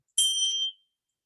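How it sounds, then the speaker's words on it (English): A single bright bell strike opens a seated session, a clear ringing tone that rises sharply and fades out within about half a second, heard alone. "The welcoming sound of the bell."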